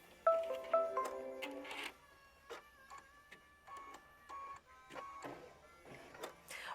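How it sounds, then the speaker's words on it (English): Embroidery machine sewing fabric pieces together for a sampler quilt block, giving tonal motor whines and clicking mechanical stitch sounds in uneven bursts, fairly quiet and close. "we're going to lower our foot and sew. And this will be machine stitch step 15."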